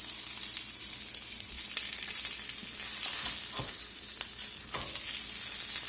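Freshly turned salmon fillets sizzle in a hot pan, a loud, close, continuous frying hiss broken by occasional crackles and pops, with no one talking.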